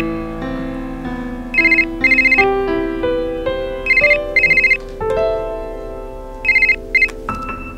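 A mobile phone ringtone chimes in short repeated bursts of bright electronic tones over soft background music, indoors and close by.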